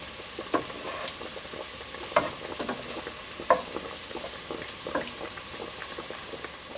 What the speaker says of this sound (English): While this is frying, come back and give this a little bit of a stir.